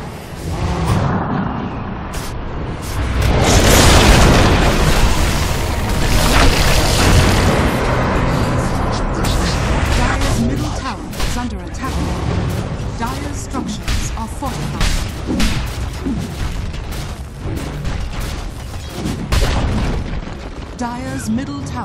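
Tower being destroyed in Dota 2, dense booming explosions and crumbling impacts that swell early then continue as crackling bursts, loud throughout.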